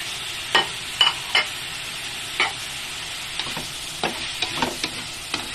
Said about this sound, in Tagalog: Haluin lang natin, i-mix lang.